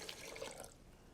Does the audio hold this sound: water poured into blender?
yes